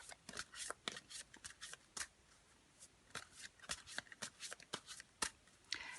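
A tarot deck is shuffled up close in quick, quiet riffling bursts that repeat steadily, each a short papery flutter of cards.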